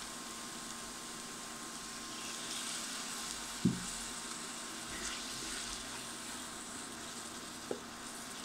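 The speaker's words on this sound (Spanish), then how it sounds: "vamos a agregar un buen chorro de vino tinto" Red wine is poured into a hot flour roux for a Spanish sauce, producing a steady soft sizzle with a couple of brief clanks, quiet and without talk.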